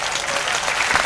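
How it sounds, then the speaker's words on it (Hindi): Audience applause at a Hindi poetry performance, steady dense clapping from a crowd filling the room without pause, loud and continuous. "ताली बजाइए"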